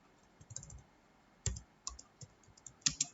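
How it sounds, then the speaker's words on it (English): Computer keyboard keys are pressed in short irregular bursts while an HTML program is typed into Notepad, with sharp, close clicks separated by brief quiet pauses. "Now we'll type the program."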